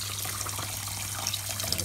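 Water is poured over long-grain basmati rice to soak it, giving a soft, continuous splashing and trickling that is fairly faint and close by, with no talking.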